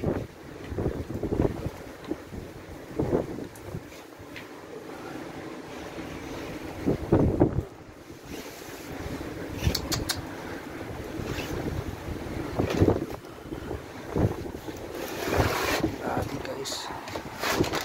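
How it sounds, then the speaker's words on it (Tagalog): Strong wind buffets the microphone in rough, roaring gusts, with a hint of water nearby and voices speaking now and then underneath. "Lakas talaga ng hangin"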